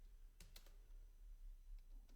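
Code being typed on a computer keyboard in a quiet room: a short burst of a few crisp key clicks, then a couple of fainter taps, with no voices.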